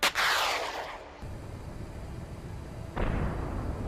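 A TOW missile launches from a Bradley fighting vehicle in combat: a sharp blast followed by a long rushing roar, then a second rumbling surge, loud and fairly near.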